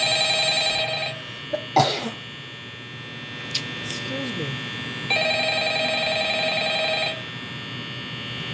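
A telephone ringing in the Five Nights at Freddy's video game, a repeated electronic trill in two long stretches over a steady mains hum, broken by a cough and a man's brief speech.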